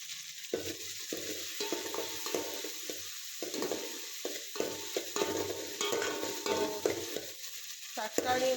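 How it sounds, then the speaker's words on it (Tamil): Chopped tomatoes for a prawn curry sizzle in a hot pan while a spoon stirs and scrapes through them in irregular strokes, close and steady throughout. "தக்காளி நல்லா ஸ்மாஷ் ஆகி வர வரைக்கும் விட்டுறலாம்."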